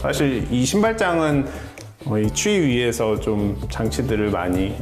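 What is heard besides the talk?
None of the usual background noises is heard.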